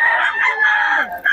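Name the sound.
rooster crowing loudly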